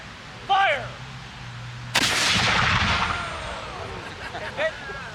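A single loud black-powder musket shot cracks at a Baron von Steuben historical reenactment in New Jersey, fired right after a shouted command, booming close and then echoing away, with voices nearby.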